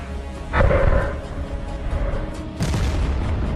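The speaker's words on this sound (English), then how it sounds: "AFU artillery makes a shot" A Ukrainian artillery piece fires a single shot, a loud sudden boom followed by a rolling rumble, and a second heavy thud comes a few seconds later.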